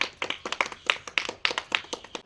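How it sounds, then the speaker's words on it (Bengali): Several family members clapping during a party game, with a brisk, uneven run of close handclaps coming in quick bursts. "তো সবাই হাততালি হাততালি হাততালি"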